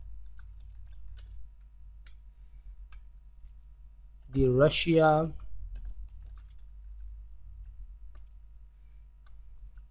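Computer keyboard keys clicking sparsely while country names are typed into a web form, with light, scattered taps and a brief spoken phrase partway through over a quiet hum.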